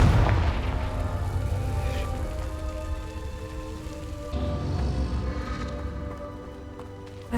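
In the wizarding video game Hogwarts Legacy, the Confringo explosive spell goes off as a deep boom, followed by a long rumbling tail with a sustained tonal hum, and a second, softer blast arrives midway.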